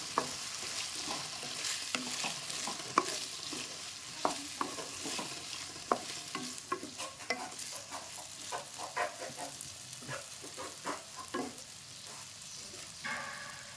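Potato pieces fry and get stirred in a pan, with a continuous moderate sizzle broken by frequent scraping and clattering stir strokes that come more densely toward the end.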